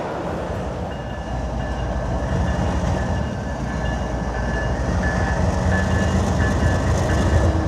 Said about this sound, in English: A train's coming through here